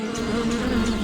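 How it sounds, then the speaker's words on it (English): A bee on a farm buzzes steadily and close, a continuous droning hum with no pause and no talk. "During the day, it buzzes from flower to flower, collecting sweet nectar for honey."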